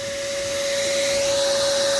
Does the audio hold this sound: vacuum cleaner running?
yes